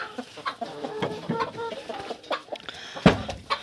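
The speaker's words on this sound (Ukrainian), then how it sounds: "Що ти боже, як квокає?" A broody hen, sitting with small ducklings, clucks in a series of low, close, irregular grunting calls, with a louder squawk near the end and a voice mixed in.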